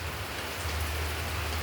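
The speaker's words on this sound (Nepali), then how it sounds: "यहाँको वेदर सायद आज दिनभरि पानी पर्छ जस्तो छ" Rain falling steadily outside a window on a dark, overcast day, a dense close hiss of drops on surfaces with a low rumbling undertone, continuous and unbroken, with no voices.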